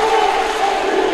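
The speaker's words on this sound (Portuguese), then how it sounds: "E a torcida grita o nome do Vitor" A futsal crowd chants the name of the player Vitor during a penalty shootout between Boa Viagem and Quixadá. A loud, sustained, tonal mass of voices fills the short moment.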